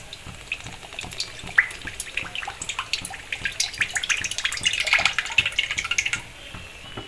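White cooking oil trickles and splashes into a kadai. The liquid gurgles and patters close by for several seconds, building slightly in intensity, with no talking.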